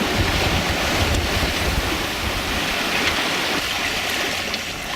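Strong wind and rushing waves surround a sailboat under plain sail, moving at over six knots between Nanaimo and Pender; a loud, steady broadband wash with wind buffeting the microphone throughout, no voices.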